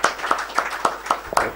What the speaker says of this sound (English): A final round of applause for all our speakers for this inaugural session